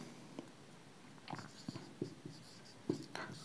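Chalk or marker writing a formula on a classroom board, heard as a few short, sparse scratching taps and strokes, fairly faint, with no talking over them.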